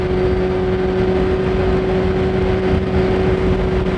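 Honda Fireblade CBR900RR motorcycle engine droning steadily while riding, a loud continuous hum with a strong constant tone and rushing wind noise throughout.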